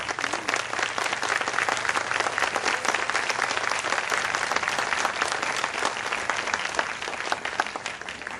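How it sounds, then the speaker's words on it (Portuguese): A church congregation applauds continuously for several seconds, a loud, dense wash of many hands clapping at once with no letup. "Pode aplaudir o Senhor."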